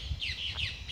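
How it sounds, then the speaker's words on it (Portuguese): Small birds chirp and sing in a short run of repeated high tweets outdoors in the early morning at a barracks flag post, moderately close, with no talk over them. "Olha os passarinhos cantando aí."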